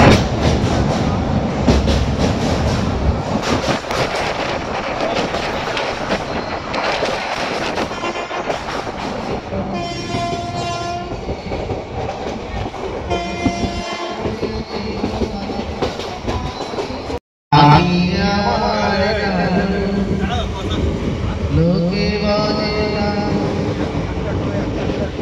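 A train at a railway station gives a steady, loud rumble and clatter throughout, with a brief cut-out near the end, while voices talk over it.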